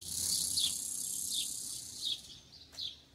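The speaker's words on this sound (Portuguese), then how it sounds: "A cigarra, gente." A cicada on a street in Frutal, Minas Gerais, buzzes in a steady high-pitched drone with rhythmic pulsing swells, loud and close, then fades out near the end.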